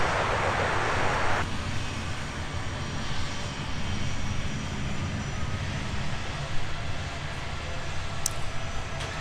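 A sports charter jet lands at Minneapolis–St. Paul airport arriving from Milwaukee, an aircraft without winglets; a steady engine roar and broadband rumble, heard from a distance, sweep on throughout with a brief sharp tone near the end.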